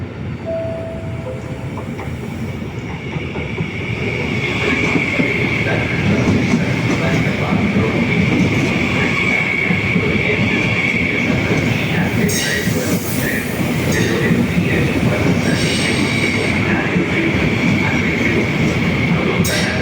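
Trains moving through Padova railway station in Italy, a loud steady rumble of rolling stock with wheel squeal and rail clatter building after a few seconds and continuing throughout, with no talk.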